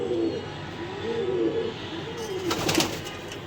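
A racing pigeon gives a short run of rolling, throaty coos at close range, ending with a brief noisy flutter.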